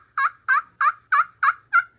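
An anodized turkey call called the Screaming Mimi, made for long-distance calling, gives six sharp, loud yelps at an even rhythm, close and alone, with clean pauses between them.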